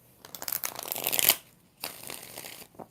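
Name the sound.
shuffling tarot cards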